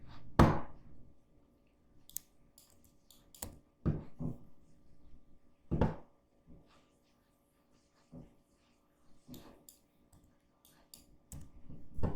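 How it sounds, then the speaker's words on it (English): Computer keyboard keys are pressed at a desk, a scattered series of sharp, fairly close clicks at irregular intervals with soft breathing between them, and no one talking. "I'm just hitting J on the keyboard to join those."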